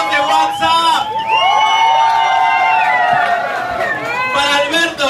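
A bar audience cheers and whoops loudly for performers, with high shouts and whistles rising over a dense, continuous crowd roar that lasts the whole stretch.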